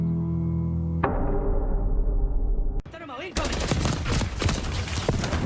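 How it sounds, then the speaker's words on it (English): Rapid automatic gunfire in a first-person shooter game, loud sustained bursts with a sharp break partway through, continuous and close, with no talking over it. "I turned and filled it with bullets."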